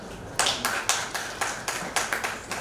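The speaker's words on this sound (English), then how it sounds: "So big round of applause." Small audience clapping at a Mother's Day event, about eight to nine distinct claps in a steady rhythm, moderately close and fairly light, with no talk over it.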